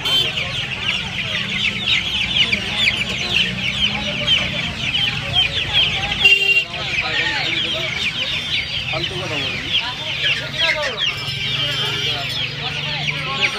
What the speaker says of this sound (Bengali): এখানে দেখতে পাচ্ছেন অস্ট্রেলিয়া মুরগির বাচ্চা আছে